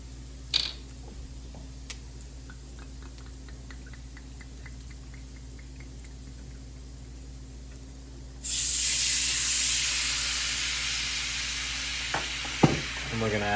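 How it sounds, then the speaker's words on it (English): Half a cup of white wine is poured into a pan of simmering shrimp. After a quiet stretch with a few faint clinks, a sudden loud hiss breaks out and keeps going, with a couple of sharp knocks near the end. "we're gonna go ahead and add our white wine here,"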